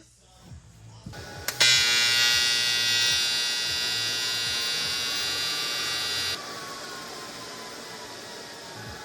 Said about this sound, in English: You can only weld aluminum in AC.